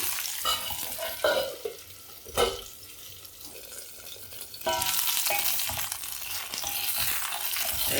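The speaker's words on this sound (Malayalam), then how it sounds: "ഈ എണ്ണയിൽ നന്നായിട്ടൊന്ന് വാട്ടിയെടുക്കാം" Brinjal sautéing in hot oil and being stirred: a sizzling hiss broken by scrapes and knocks of the spoon against the pan, with the frying growing louder and brighter partway through.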